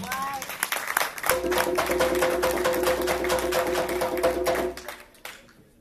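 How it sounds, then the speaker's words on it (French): Thunderous applause from a conference audience, dense clapping that swells in after a second and holds steady for several seconds before tapering off, with a faint hum running beneath it. "ça mérite un tonnerre d'applaudissements"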